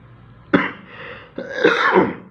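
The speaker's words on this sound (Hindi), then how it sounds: "थोड़ा सा खांसी आ रहा है" Two close, forceful coughs, the second longer and raspier, with no speech around them.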